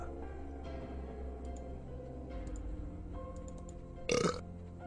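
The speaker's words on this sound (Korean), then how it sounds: "묵은 트림이 터져나왔다" A single loud, raspy burp erupts near the end, short and close, over a low steady background hum.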